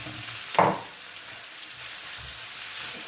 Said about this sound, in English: And I'm now going to fry those onions.